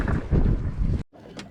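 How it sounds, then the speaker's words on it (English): Gusty wind buffets the microphone in loud low rumbling bursts, then cuts out briefly before a fainter rush returns. "It is windy as heck out here."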